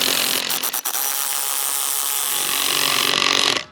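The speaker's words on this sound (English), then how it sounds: "Tighten this section up. And now break that bead." A tire bead breaker, an off-road tool clamped against the back of a wheel rim, is cranked to force the tire bead loose, giving a loud, steady grinding and straining noise with a few brief clicks early on, then a rising push before it stops.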